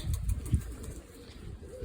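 Pigeons coo softly nearby in low, throaty murmurs, with a faint rustle in the background.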